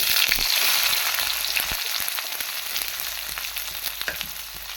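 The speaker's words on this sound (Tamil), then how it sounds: "நல்லா இந்த மாதிரி நல்லா பொறிஞ்சு வருது" Drumstick stir-fry crackles loudly in a hot pan, a dense, close frying hiss with small pops and a few stirring knocks, no one speaking.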